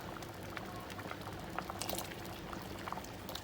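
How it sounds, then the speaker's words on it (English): Curry powder simmering in water in a pot for dhal curry gives off a steady, quiet bubbling and fizzing with small irregular pops and crackles throughout. "And let all this curry powder boil properly."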